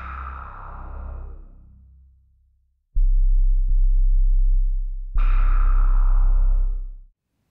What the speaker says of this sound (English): on layer B, is simply a 440Hz sine wave sample